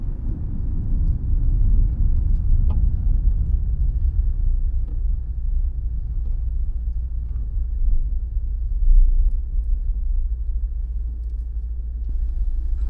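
A car drives along a road toward a fuel station, its engine rumbling steadily at low pitch with constant road noise throughout.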